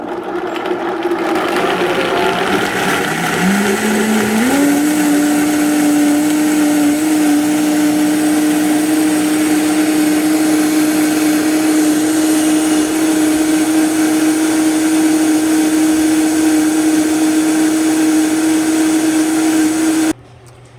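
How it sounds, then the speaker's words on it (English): A blender blending almonds whirs up to speed after a brief start, then holds a loud, steady high-pitched drone until it cuts off at the end. "put this on the blender, and blend it up really well"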